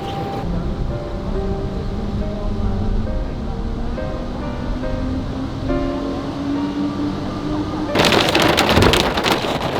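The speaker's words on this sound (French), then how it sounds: "Qui dit orage dans les Dolomites dit repas à l'intérieur" A thunderstorm in the Dolomites brings a steady wash of heavy rain throughout, with faint tonal sounds underneath and a sharper, louder burst near the end.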